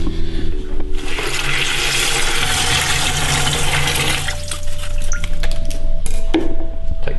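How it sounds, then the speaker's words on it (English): Five litres of cold water poured from a container into a plastic beer fermenter from a home brewing starter kit, a loud continuous gushing splash that settles into a lighter trickle with faint plastic knocks near the end. "Put 5 litres of cold water. We're going to tip this into here,"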